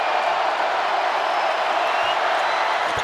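A groan from a 16,000-strong basketball arena crowd during a Tennessee vs LSU free throw, a dense, sustained wash of crowd noise that fills the whole space evenly without pause.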